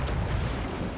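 Cannon fire in Assassin's Creed IV Black Flag: a single loud, rumbling blast that fills the whole second with dense low roar and no voices.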